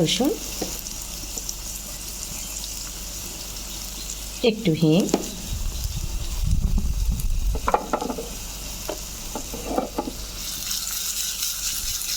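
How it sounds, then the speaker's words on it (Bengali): Dried red chillies frying in mustard oil while cooking palak paneer, a steady close sizzle with a few louder crackling bursts and some stirring partway through. "তবে সর্ষের তেল দিলাম শুকনো লঙ্কা দিলাম"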